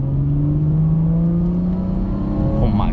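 A car accelerates hard through second gear on a rainy drive, its engine note climbing steadily in pitch, loud and close from inside the cabin, with a brief gear-change shift near the end.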